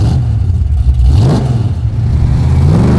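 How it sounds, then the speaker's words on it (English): A deep, throaty car exhaust rumble through glasspack mufflers, loud and close, with the engine blipping and revving briefly before settling back to a steady idle, from a surviving General Lee Dukes of Hazzard car. "What's the exhaust again? Because it's making some pretty good rumble."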